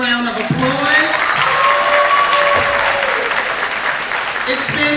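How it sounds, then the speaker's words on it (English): A crowd at an elementary school moving-up ceremony claps warmly and continuously, with a few voices and light cheering mixed in over the applause. "Let's give them another round of applause."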